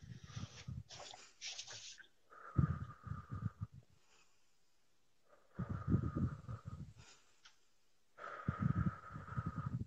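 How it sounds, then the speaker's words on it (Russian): A person in a psychology consultation takes slow, deep breaths, with several long, loud inhale-exhale cycles close up, separated by quiet pauses and sounding somewhat rough and snorting. "Дыши глубже."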